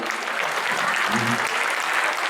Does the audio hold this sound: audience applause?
yes